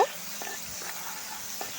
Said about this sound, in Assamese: এতিয়া মই তেলত পিঁয়াজখিনি দি দিম।